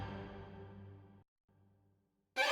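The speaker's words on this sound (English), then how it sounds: "strings on their own sound like this" Orchestral MIDI string section playing a fast scurrying run, sustained dense harmonic texture that cuts off abruptly, followed by a quieter low held note and a brief bright burst at the end.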